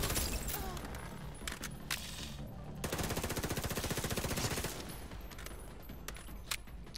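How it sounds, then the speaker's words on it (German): Gunfire in Tom Clancy's The Division: scattered sharp shots give way to a sustained rapid automatic burst, then trail off into a few more single cracks. "Ich schieße schon da unten irgendwo in den Tunnel"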